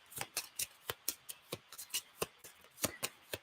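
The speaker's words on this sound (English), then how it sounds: "I'm going to shuffle the cards" Playing cards are shuffled close up during a tabletop game, giving a run of crisp, evenly spaced riffling snaps, faint and with no voices.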